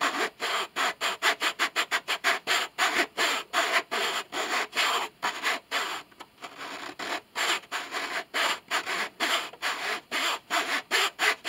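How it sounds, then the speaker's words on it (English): A file rasping wood on a cello under restoration, steady rhythmic back-and-forth strokes, loud and close, roughly two strokes per second with brief gaps, no talk. "And we'll use the file to do that."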